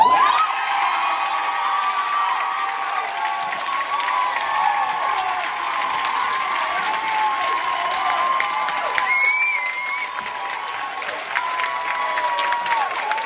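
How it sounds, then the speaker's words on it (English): A large audience at a town hall meeting with a congressman cheers, applauds and whoops loudly and continuously, a dense sustained roar of many voices. "Look closely at this crowd cheering the question"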